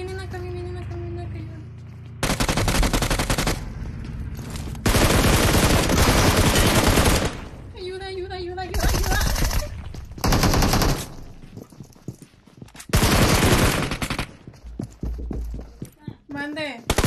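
Video game gunfire comes in loud bursts of rapid automatic fire, alternating with quieter stretches where people talk over the game.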